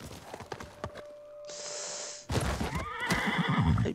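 A horse in the samurai video game Ghost of Tsushima gives a loud, shrill whinny, preceded by scattered clip-clop hoofbeats and followed by snorting and moving hooves, nearby and clear.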